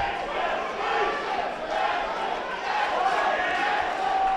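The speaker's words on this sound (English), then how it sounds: "And some chants of Ashley in the crowd, so she's got her fans cheering in support of her." A fight crowd chants a fighter's name during a women's MMA bout, a dense rhythmic roar of many voices filling the arena and holding steady throughout.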